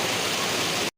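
Rain falls in Chennai as a dense, loud, even hiss for just under a second before the sound cuts off abruptly.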